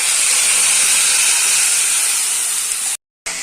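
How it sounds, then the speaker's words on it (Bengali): Spice paste hits hot cumin in a pan, giving a loud, steady sizzle that fills the clip, broken by a brief cut near the end before resuming. "এই যে জিরেটা ভালো করে গরম হয়ে গেলে আমি এই মশলাটা আমি এতে দিয়ে দিলাম"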